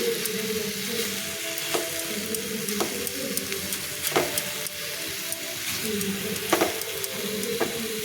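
Mixer-blended chhana (cottage cheese) cooks in a pan for mango sandesh, giving a soft continuous sizzle broken by repeated spoon scrapes and stirring strokes at close range.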